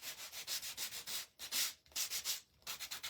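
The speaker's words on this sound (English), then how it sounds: "I do sand my cardboard too" Cardboard being hand-sanded for a rustic cedar scrap-wood scarecrow makes quick, rhythmic back-and-forth rasping strokes, close and dry, broken by two short pauses.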